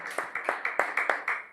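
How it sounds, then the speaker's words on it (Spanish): Congregation clapping in a church service, a rapid run of about eight claps in a steady rhythm, close and moderately loud with no voices over it. "Vamos a dar un aplauso para el Señor."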